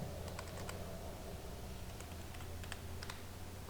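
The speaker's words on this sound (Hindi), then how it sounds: "यहाँ पर हम कोई नाम लिख देते हैं, मान लीजिए पावर पॉइंट ही लिख देते हैं" Light typing on a computer keyboard, scattered soft keystrokes over a steady low hum and background hiss, faint and close, with no talk.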